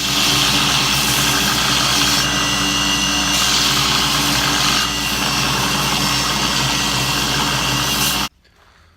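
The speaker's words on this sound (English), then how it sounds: "There's maybe 10 minutes of grinding to do here." A belt grinder runs continuously at a loud, steady pitch, grinding a steel hammer head with a harsh, bright hiss, then cuts off abruptly near the end.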